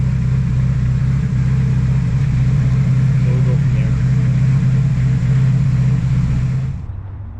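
An engine idles while warming up, a loud, steady low rumble with a constant hum that holds evenly before dropping away sharply in the final moments.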